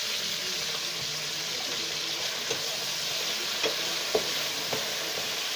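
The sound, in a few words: frying spiced potato sticks for french fries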